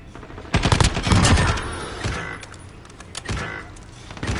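Rapid bursts of gunfire in a shooter video game, a loud close volley followed by scattered shots and a few more quick bursts toward the end.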